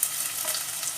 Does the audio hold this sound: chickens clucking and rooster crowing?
no